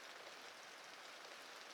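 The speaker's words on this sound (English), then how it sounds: "The rain remains at the window, soft and steady" Soft, steady rain falls against a window, a faint, even hiss with no gaps or other sounds.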